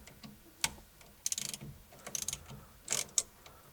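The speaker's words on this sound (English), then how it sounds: "So in order to remove these 3 existing bolts, we're going to use a" Ratchet with a 7/16 socket loosening the steering wheel bolts on a 1966 Ford Mustang, giving a few short bursts of quick, close metallic clicks separated by quiet gaps.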